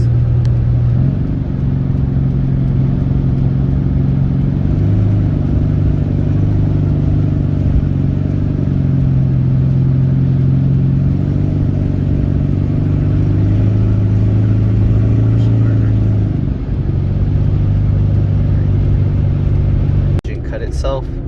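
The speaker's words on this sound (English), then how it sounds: "Just so you can hear the difference when I push the gas." A 2003 Toyota Prius with its catalytic converter stolen, accelerating on the road with a loud, raw, steady engine drone and low rumble that shifts slightly in pitch, the engine note continuous and close.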